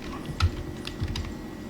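Rapid typing on a computer keyboard, with a steady run of close, crisp key clicks over a constant low background hum, and no voices.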